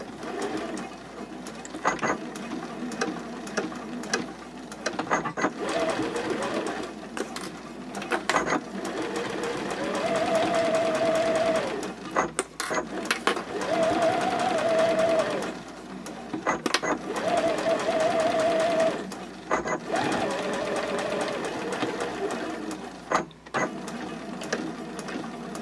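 A sewing machine stitches a half-inch seam on a fabric card clutch at a 3.0 stitch length, running in several rapid whirring bursts separated by short pauses, close and fairly loud, with a voice talking in places.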